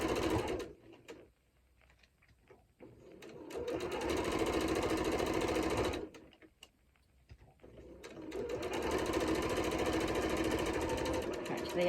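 A sewing machine stitches a cushion in two bursts of steady, close whirring, with a quieter stretch of handling noise between them.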